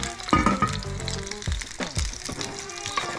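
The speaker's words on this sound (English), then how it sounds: "Ayan, kumukulo na yung ating beef tapa." Beef tapa frying in a pan on a home stove, a steady broadband sizzle with a few louder spits and bursts of stirring and clatter, fairly close and without talk.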